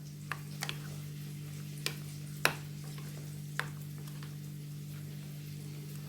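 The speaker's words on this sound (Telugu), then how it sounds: "ఇప్పుడు దీని అంతటిని మనం మళ్ళీ ఒకసారి మిక్స్ చేసుకుందాము" Oats mixture with grated cucumber being stirred in a bowl, a few faint separate scrapes and taps of the spoon over a steady low hum, no voices.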